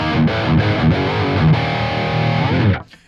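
High-gain electric guitar played through the JST Toneforge Jeff Loomis amp-sim default preset, thick distorted chords chugging in a steady rhythm with short palm-muted stops, loud and close, then cutting off abruptly near the end.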